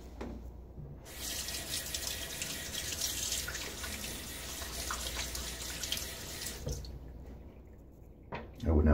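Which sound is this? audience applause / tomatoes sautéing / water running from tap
water running from tap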